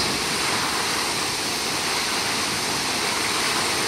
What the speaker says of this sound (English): all of this water is coming out of a cave up top and then dropping 110 feet down this waterfall